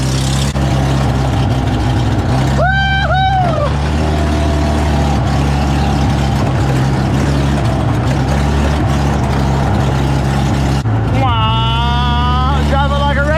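A Polaris Ranger utility vehicle driven hard off-road gives a loud, steady engine drone throughout, with rising whining tones as it speeds up, and occasional voices.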